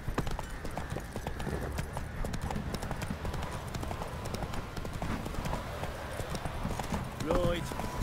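The horse Roach's hooves in The Witcher 3, a steady clip-clop of trotting hooves on the ground under soft background ambience, with a voice speaking briefly over it.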